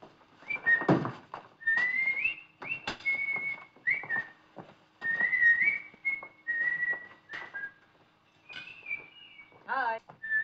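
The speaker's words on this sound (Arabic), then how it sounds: "بلاش تصفير" A person whistles a lively melody in short tuneful phrases with pauses between them, heard clearly and close by in a quiet room.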